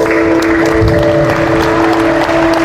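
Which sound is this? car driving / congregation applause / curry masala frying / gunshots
congregation applause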